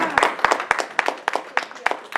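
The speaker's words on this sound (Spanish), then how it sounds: "Denle ese aplauso al Señor." A church congregation claps during a Spanish-language sermon, giving sparse, irregular hand claps at close range that come in uneven bursts rather than a full ovation.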